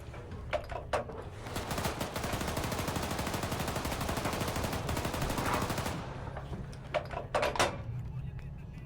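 Sustained automatic gunfire from an Arma 3 battle pours out for about five seconds as a dense, loud rattle, bracketed by a few separate sharp shots before and after.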